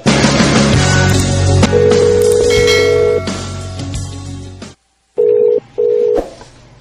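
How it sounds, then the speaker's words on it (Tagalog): A cellphone rings loudly and close with a repeating electronic tone melody, cuts to silence, then gives two more short ring bursts. "Sige lang ring ang cellphone, pero dilikid mo tubag."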